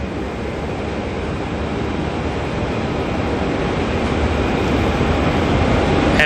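An Antonov An-124 cargo plane taxis at Auckland Airport, heard as a steady, loud, broad engine rumble and whine that swells slightly over the few seconds, with no talking.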